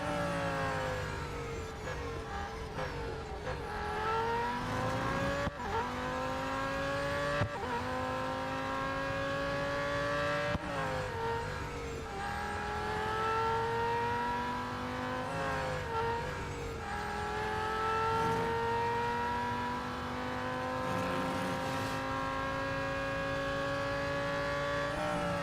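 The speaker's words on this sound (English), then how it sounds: "The beauty about this car is that although it takes its time to accelerate," A race car in the video game Real Racing 3 revs loud and close, its engine tone climbing steadily through repeated gear shifts as it accelerates, with no one talking.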